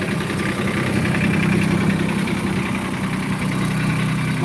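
A mini tractor engine idles steadily in a farm setting. It makes an even, moderately loud mechanical drone with a vibrating low hum and no talking.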